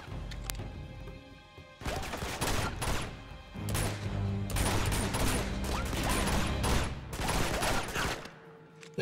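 Bursts of gunfire from the video game Uncharted 2, a dense, loud action mix with rapid shots, impacts and crashes running almost continuously after a brief quieter opening.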